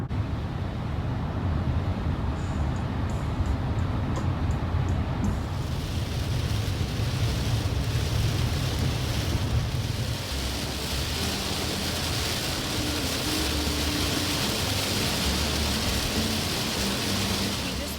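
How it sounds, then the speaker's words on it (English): Heavy tropical rain pours down in Mexico as a dense, loud, unbroken hiss and roar lasting throughout, with no voices. "It's been pouring rain,"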